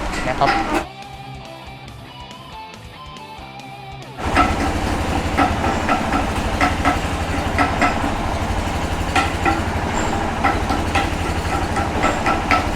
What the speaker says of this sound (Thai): ตัวนี้ก็ใช้เครื่องยนต์ นะครับ ทั้งหมด 3 เครื่องเลยนะครับสามารถต่อได้